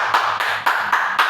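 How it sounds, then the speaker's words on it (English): A classroom group of students claps together in five or six short bursts of applause, close and fairly loud, with brief gaps between each burst and no talking. "Let's give ourselves a round of applause."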